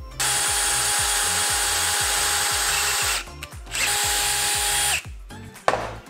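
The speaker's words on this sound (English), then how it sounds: "we gotta drill it out a little bit because it is pretty meaty" A power drill bores out a hydraulic fitting on a turbocharged EFI 660 lawnmower project, whining loud and close in two long runs with rhythmic pulsing, then stopping with a few clunks of handling.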